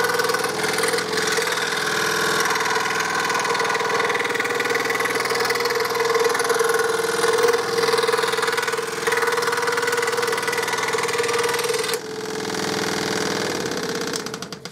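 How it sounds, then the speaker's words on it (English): A Hegner electric fret saw, a motorised scroll saw, runs with a steady close mechanical hum and fast rhythmic chatter, dipping slightly once before continuing. "that's the Hegner fret saw"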